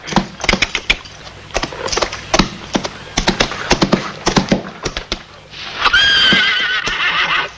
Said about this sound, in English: Easy there, horse.